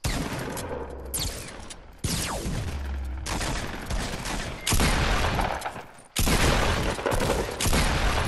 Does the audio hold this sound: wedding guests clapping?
no